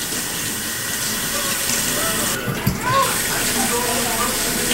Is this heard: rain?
no